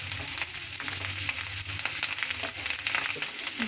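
Coriander and mint frying in a pan of tomato chana dal curry, a steady close sizzle with soft scraping stir sounds running continuously, no talking.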